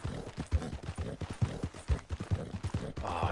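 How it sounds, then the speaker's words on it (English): Horse hooves crunching over ice in the video game Red Dead Redemption 2 Online, a run of loud, close, regular clip-clop steps with a crisp crunch, heard alone. "Oh, it's crunchy ice."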